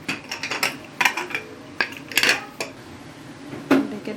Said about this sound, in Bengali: এবারে আমি ঢেকে দেব।